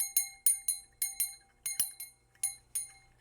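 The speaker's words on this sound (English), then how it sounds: "let's ring the bell" A small bell rings repeatedly in clusters of bright, clear chimes, each strike decaying quickly, close and fairly quiet, rung during an incense and candle ritual.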